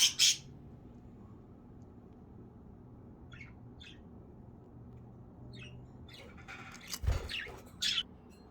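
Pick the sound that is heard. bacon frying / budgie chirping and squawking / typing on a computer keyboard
budgie chirping and squawking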